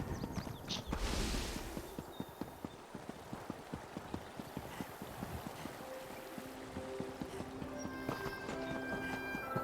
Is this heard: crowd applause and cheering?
no